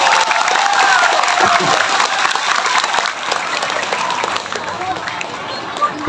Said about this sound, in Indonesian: Tepuk tangan buat guru kita.